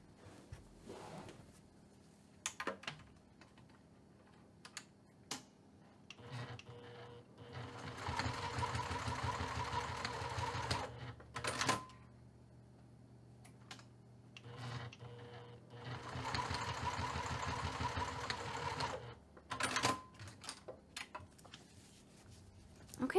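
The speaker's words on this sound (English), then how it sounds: "we're going to secure the other end by stitching 1/8 of an inch away from the edge of the fabric" Sewing machine stitching along a ribbon bag strap in two sustained bursts of rapid whirring, separated by pauses with small handling clicks and fabric rustles, close and moderately quiet.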